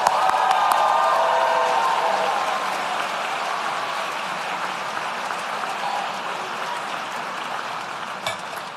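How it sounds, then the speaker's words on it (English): Sustained applause from a graduation ceremony audience honoring Master in Health Administration graduates, a dense steady patter of many clapping hands that stays loud throughout, easing only slightly toward the end. "please join me in a round of applause for our Master in Health Administration graduates"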